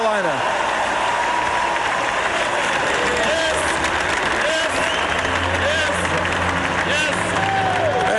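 A large crowd in Toronto's SkyDome cheers for Jerry Stackhouse at the 1995 NBA Draft. The roar of applause and cheering is steady and continuous throughout, with a voice talking over it.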